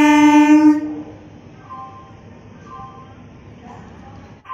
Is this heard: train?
yes